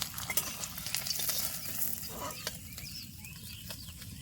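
Hilsa fish tails frying in a pan, a faint continuous sizzle with light scraping from a utensil, a few birds or chickens calling faintly in the background.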